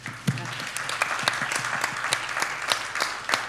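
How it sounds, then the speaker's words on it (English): Audience applause fills a business talk on sustainable shipping practices, a steady patter of many hands with a few sharper individual claps standing out, moderately close and continuous throughout. "A round of applause"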